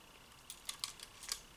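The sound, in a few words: vintage rangefinder camera film winding and shutter firing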